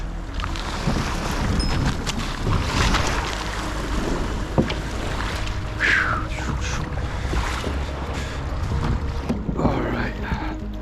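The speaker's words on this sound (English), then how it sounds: "So I just launched my kayak here in the Boston Harbor." Kayak launched and paddled on Boston Harbor under overcast, chilly skies, with water sloshing and splashing against the hull, paddle strokes and wind buffeting the microphone throughout.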